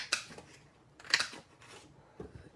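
Scissors snip through shiny paper in three quick, close cuts spaced about a second apart, crisp and quiet in a still room.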